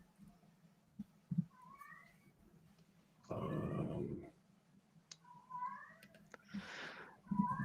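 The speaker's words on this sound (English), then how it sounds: "I have a cat that's in the heat." A cat in heat yowls and meows in drawn-out, wavering cries, several calls spread across the stretch, fairly faint with a low steady hum beneath and a brief spoken word near the start.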